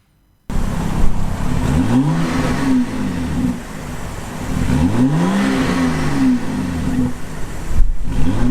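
A 2017 BMW X3 engine revs up and falls back three times, each loud rise and fall sweeping its pitch over a steady idle. The engine is close and there is no talk.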